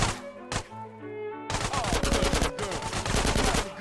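Rapid bursts of pistol gunfire in GTA San Andreas, loud and close, with sharp shots crowding together over game music and effects after a brief lull.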